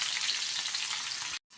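Crushed garlic cloves frying in hot oil with curry leaves already in the pan, giving a dense, even hiss close by that cuts off abruptly near the end.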